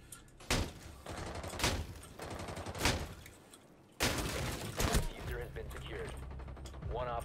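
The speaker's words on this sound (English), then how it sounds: "Who the fuck's shooting through walls?" Rifle fire bursts through walls in the tactical shooter Rainbow Six Siege: several loud rapid volleys with short gaps, a sharp blast at the midpoint, then mechanical clatter and rumble as a voice speaks over it.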